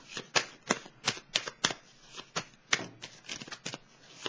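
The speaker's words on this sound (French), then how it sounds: "Je vais piger une autre carte." Tarot cards being handled and drawn from a deck, a quick series of close, crisp card flicks and riffles in a steady rhythm, with no talking.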